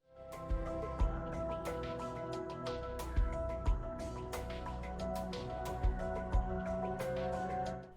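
Black Ops 7 Zombies idle menu music, a reworked take on the Black Ops 2 Zombies menu theme, plays continuously with sustained layered tones, scattered bright accents and occasional deep thumps, steady and uninterrupted.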